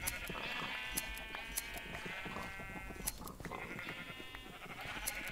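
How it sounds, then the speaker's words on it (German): A flock of sheep bleating in the video game Minecraft: repeated wavering baas, quiet and somewhat distant, overlapping one another at irregular intervals with faint clicks in between. "Die ganzen Schafe."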